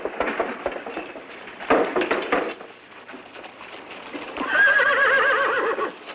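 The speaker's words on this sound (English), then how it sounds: "Drawn by matched gray horses, it will carry President Kennedy's flag-covered casket in final processions through the Capitol" Matched gray horses drawing a ceremonial caisson in a state funeral procession at the Capitol, with hooves clip-clopping in bursts and a loud whinny rising near the end.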